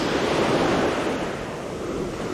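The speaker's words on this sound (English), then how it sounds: "Got some waves coming in at us." Steady rushing surf of ocean waves washing in at Waimanalo Beach Park, Hawaii, with wind buffeting the microphone and no voices.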